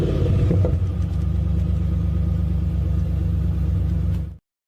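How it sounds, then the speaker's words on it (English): A car engine that needs a carburetor change rumbles at a steady, deep idle for about four seconds, close and loud, then cuts off abruptly into silence. "That car needs its carburetor changed."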